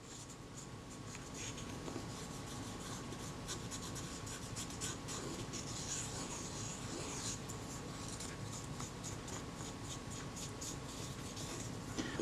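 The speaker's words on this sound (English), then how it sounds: "I'm just cleaning the inside of the case, getting it as clean as I reasonably can" Soft, close rubbing and scrubbing as the inside of a Kodak Retinette IA camera case is cleaned with naphtha, quiet and continuous for about twelve seconds.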